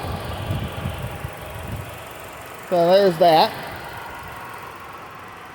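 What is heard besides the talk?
2018 Hyundai Elantra DOHC 16-valve 4-cylinder engine idling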